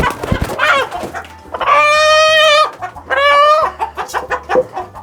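Pota Blava chickens cluck loudly nearby, with two long drawn-out calls and a run of short, sharp clucks in between.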